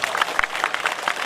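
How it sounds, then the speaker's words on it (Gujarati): Crowd at a Thakor community gathering clapping together in a steady burst of applause, dense and fairly loud throughout the short stretch. "આજુ કઈ તાળીઓ પાડો."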